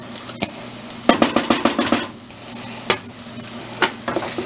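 Homemade chilli being stirred in a pot, a spoon scraping and clacking in a quick run of close, distinct strokes, then a few scattered knocks, with a faint sizzle beneath.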